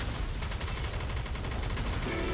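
Rapid gunfire shoots down missiles in the video game Nikke, a dense, unbroken stream of fast rattling shots that pulses evenly over a constant wash of loud battle noise.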